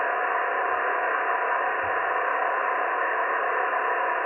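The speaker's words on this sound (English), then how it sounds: "how's the radio coming through? Can you guys hear that okay?" Amateur radio reception on a portable radio speaker during a Parks on the Air outdoor operating session: a steady, band-limited static hiss runs throughout at even loudness, with no clear voice standing out.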